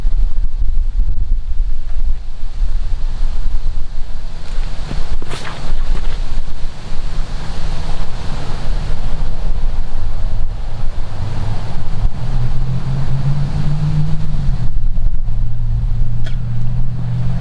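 Strong headwind buffets the microphone on a disc golf course, a loud continuous roaring rush that swells and eases without letup, with a brief clack partway through.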